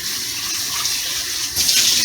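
Tap water runs steadily into a pot as green beans are rinsed, a continuous hissing splash that grows louder and brighter in the final half second.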